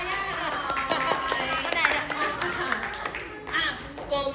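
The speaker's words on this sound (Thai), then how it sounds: "ปรบมือให้ยาย่าหน่" Children in a Thai fifth-grade classroom clap for a classmate, a quick burst of uneven hand claps mixed with chatter and voices.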